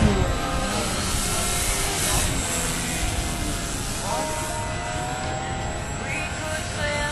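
The small propeller engine of a radio-controlled Harrier model airplane drones steadily overhead, its whine shifting pitch as it banks, with faint wind noise around it.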